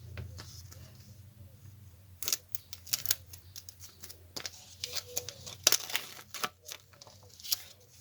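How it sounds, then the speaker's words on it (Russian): A small paper surprise packet holding a flash drive cover is opened up close, with scattered crinkles, rustles and sharp crackling tears coming in irregular bursts against a quiet room. "давайте скорее откроем наш пакетик"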